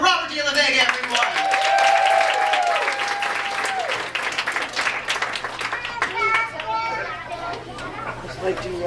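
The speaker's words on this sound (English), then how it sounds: "let's give a big round of applause for Robert De La Vega, everyone." A small audience at a summer poetry event claps and cheers for a poet. The applause is lively, with children's voices and chatter mixed in, and a whistle-like tone rises early before the clapping thins.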